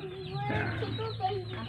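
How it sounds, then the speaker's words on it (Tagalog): Farm chickens cluck softly in a short, continuous murmur of low throaty calls, moderately close, with a voice faintly mixed in. "Ah, mga manok niya yan."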